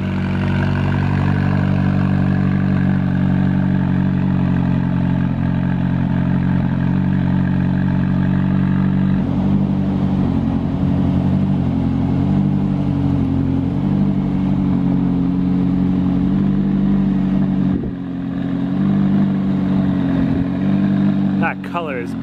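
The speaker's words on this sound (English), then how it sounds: "That exhaust is so burbly on the 570s." A Vega Blue McLaren 570S idles with a deep, burbly exhaust, a loud steady rumble that shifts into a pulsing, uneven burble partway through, with people talking over it.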